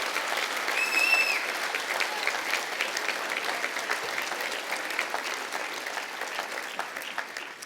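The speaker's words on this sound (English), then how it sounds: "You do have to give your fellow students a round of applause." An audience applauds at a university graduation ceremony at Victoria University. A large crowd claps steadily and densely for several seconds, with a brief sustained tone near the start and the clapping easing slightly toward the end.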